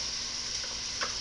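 Diced garlic, two cloves, frying in vegetable shortening heated to medium, a steady soft sizzle with a few faint ticks and a light stir near the end, no voice.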